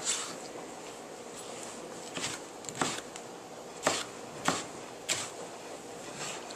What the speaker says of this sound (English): Just got to finish chopping these up here.